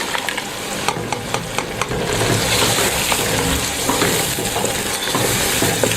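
Tomato paste frying with spices for aloo gosht: a loud continuous sizzle close by, punctuated by sharp scraping knocks of a spoon stirring the pot, with no talking.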